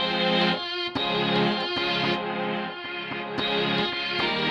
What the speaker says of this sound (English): I'm using the Mellotron violins through the Air Delay Pro.